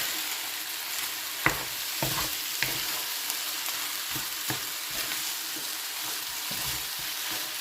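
Fried rice with sweet soy sauce is stirred in a hot pan, a steady sizzle broken by repeated scraping and tapping of the spatula against the pan.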